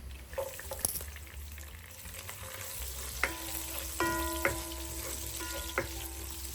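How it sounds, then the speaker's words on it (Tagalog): Garlic sautéing in a pan for a pork belly dish, with a steady close sizzle and crackle of frying broken by scraping stirs and a few clinks of a utensil against the pan. "This time, magigisa na tayo."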